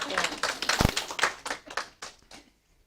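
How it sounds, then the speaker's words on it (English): Audience at a spiritual wellness weekend clapping for a volunteer coming up, a short burst of scattered claps that thins out and fades to quiet, with a voice speaking over it. "Let's give him a big round of applause."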